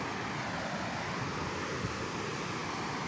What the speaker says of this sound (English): It's a serious waterfall.